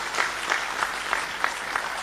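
Audience applause at an official welcome ceremony in Bhopal, a steady close wash of many hands clapping with rhythmic swells, no speech over it.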